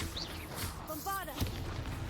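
A Bombarda blasting spell in Hogwarts Legacy goes off as a single short, punchy boom amid game noise, with a voice speaking around it.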